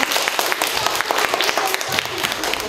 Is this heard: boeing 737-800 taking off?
no